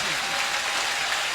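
Dense applause from a crowd at a kirtan performance, continuous loud clapping filling the space evenly, with voices faintly mixed in.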